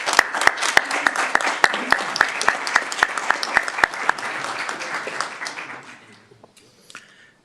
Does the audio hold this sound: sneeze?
no